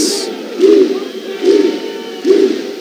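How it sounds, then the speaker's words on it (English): A volleyball crowd performs the Viking clap chant at a men's college match, with three loud, evenly spaced group claps and shouted grunts rising out of a hushed arena hum. "Begin the Viking clap"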